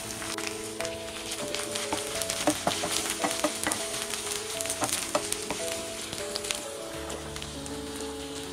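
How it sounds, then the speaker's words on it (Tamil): Chopped tomatoes with salt sauté in a pan, steady sizzling and frying with occasional stirring clicks and scrapes, continuous and fairly close, no voices. "தக்காளி சாஃப்ட் ஆகிற வரைக்கும் வதக்கிக்கோங்க."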